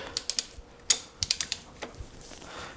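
Small metal clicks and taps from pulling a plug and working on the bolts behind it on a Ducati Multistrada V4, a series of sharp, close, irregular clinks spread over a few seconds with no talk.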